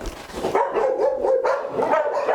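Dogs on an Egyptian dog farm housing Malinois and German shepherds bark in repeated loud, close yips and woofs, several overlapping, with brief whimpering between bursts.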